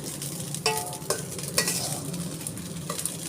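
Spinach rice with chopped coriander being stirred in a hot pan, with a steady close sizzle and a few sharp scrapes of the spoon against the metal.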